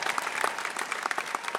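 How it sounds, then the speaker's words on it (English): A live audience applauds at a formal event in Barbados, a dense, steady wash of clapping with no break for its short span. "Give him a big applause."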